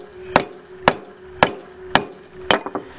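A hammer striking a size 21 ratchet socket to drive out a scooter crankshaft bearing, five sharp metallic taps at a steady interval, the last followed by a few quick lighter knocks, close and without talk.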